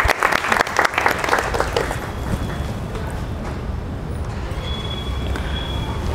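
A crowd claps loudly after a young boy plays the dholki. The applause is dense and continuous at first, then thins into a steadier, softer patter with faint background murmur.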